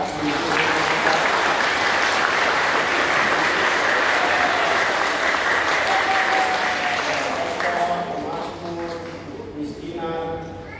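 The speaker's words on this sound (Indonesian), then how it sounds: "kita tepuk tangan kepada mereka" Loud, sustained congregational applause at a Catholic Mass on Indonesia's 80th Independence Day, dense clapping filling the church for several seconds before thinning and fading, with faint voices emerging as it dies down.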